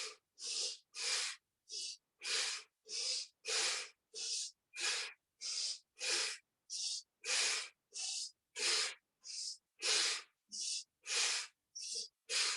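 Slow rhythmic yoga breathing, a steady run of about twenty short, audible inhales and exhales, close and breathy, with brief pauses between each breath and no talking.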